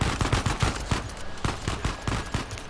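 Rapid bursts of gunfire from the video game Uncharted 4, close and loud, in repeated volleys with short gaps between them.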